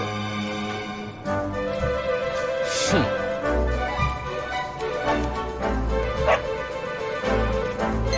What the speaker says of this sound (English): No, not a dog! Anything but that!